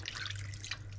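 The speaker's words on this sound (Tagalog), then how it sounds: "Lagyan natin ng kunting tubig" A little water trickles into a cooking pot while making spicy salmon with black beans, a soft brief splashing pour over a steady low hum.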